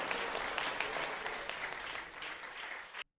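A church congregation applauds steadily for about three seconds during a worship service, dense clapping that stops abruptly at the end.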